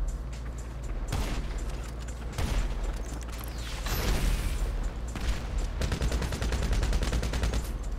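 Sniper rifle fire in GTA V online gameplay: repeated sharp gunshots crack out over a dense bed of game noise, followed by a rapid burst of automatic fire near the end, all loud and close.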